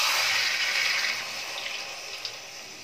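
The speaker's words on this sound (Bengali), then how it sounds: "এবার এর মধ্যে জল দিয়ে দেবো।" Water is poured into a pan of small potatoes and peas coated in spices for aloo dum, a steady close rush of liquid lasting a couple of seconds and then easing slightly.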